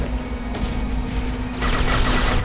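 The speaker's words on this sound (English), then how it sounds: "Oh, he's got a big machine gun." Heavy machine gun fire from an enemy in the video game Mass Effect 2, a steady rattling burst over constant low hum that swells louder and denser in the second half.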